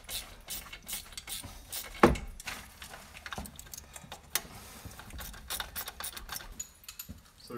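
A ratchet wrench undoing the alternator bolts on a Subaru engine, with quick repeated clicking bursts and metallic taps throughout at close range.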